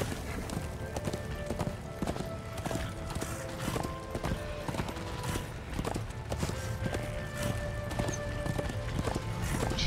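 Horse hooves clip-clop in a steady walking rhythm in the video game Darksiders 2, repeated and fairly close over a dense bed of game music and ambience, continuing for the whole stretch.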